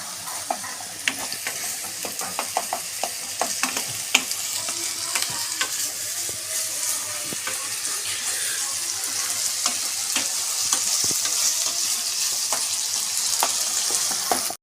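Onion masala spice paste frying in a pan for a pomfret curry, a steady sizzle broken by frequent scraping stirs and clicks of a spatula, close and continuous throughout.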